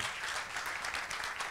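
Applause from an event audience greeting Eduardo Acuña as he takes the stage, a steady dense wash of clapping held at an even level throughout.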